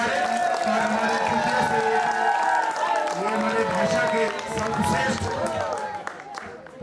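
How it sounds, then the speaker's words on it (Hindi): Applause and cheering from a crowd at a school poetry gathering as a top-scoring student is honoured, sustained clapping over a host speaking. "जोरदार तालियां महबूब के लिए"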